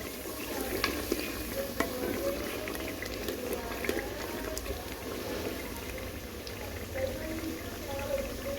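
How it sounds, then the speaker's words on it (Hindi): Masala with turmeric stirred and fried in a pot for aloo gosht, a steady close sizzle and bubbling with spoon scrapes running throughout, no talking. "इसको भी आपने दस्ती हिलाना है।"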